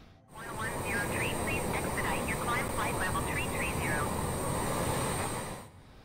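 Honda Jet aircraft engine in Microsoft Flight Simulator, a steady, even cockpit hum that fades in and out at the edges, with a voice talking over it throughout.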